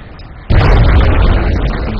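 A single loud grenade explosion in the XCOM strategy game, a sudden close blast that rumbles on and slowly tails off.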